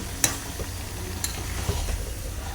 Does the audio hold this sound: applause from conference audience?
no